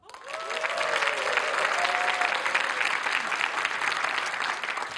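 Steady audience applause fills a Korean TV public-forum talk show in Seosan as a panelist, a research fellow, is introduced; dense, sustained clapping from a studio crowd, with faint tonal sounds briefly underneath.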